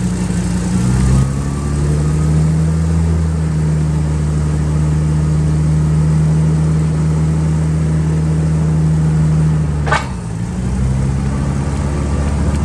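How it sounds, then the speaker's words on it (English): The LP gas engine of a Hyster S80XL 8,000 lb cushion-tire forklift runs at a steady, loud idle with a smooth low hum. It shifts pitch briefly near the start and again with a short bump near the end. "Smooth running LP gas engine with recent work"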